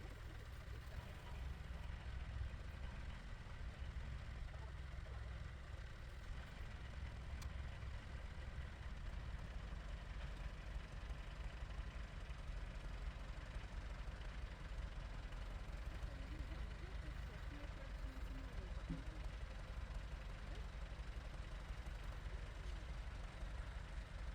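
A tractor engine rumbles steadily at low pitch throughout, a continuous heavy drone with no breaks, moderately distant under a noisy outdoor background.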